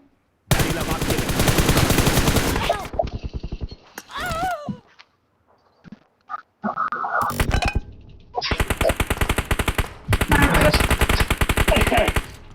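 Automatic and single gunfire in a 3v3 online shooter match against campers, loud bursts of rapid fire broken by pauses, brief shots and some quieter effects in between.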